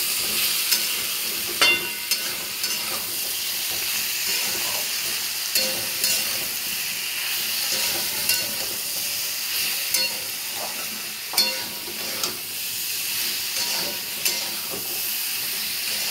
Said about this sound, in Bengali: হালকা হালকা কষে নেবো